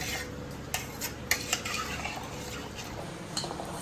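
Rice and water being stirred in a cooking pot with a utensil: scraping and clinking of metal against the pot, with a few sharper knocks, steady and close.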